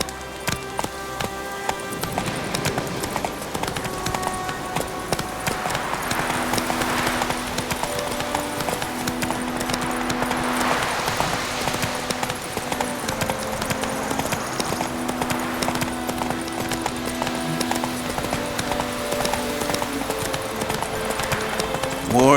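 Roach, a horse in The Witcher 3, gallops along with steady clip-clop hoofbeats that run continuously under game music and ambient sound, while voices talk intermittently over the top.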